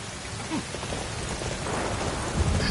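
Rain and a storm sweep through a Dynasty Warriors 9 battlefield, a dense steady hiss of downpour with low rumbling underneath, growing slightly louder toward the end.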